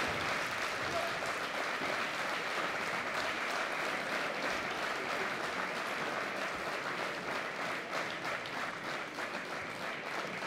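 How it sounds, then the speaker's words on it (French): Spectators applaud at a padel match, a steady dense wash of clapping from a crowd lasting throughout, with a commentator's voice faintly audible underneath. "ils applaudissent le public"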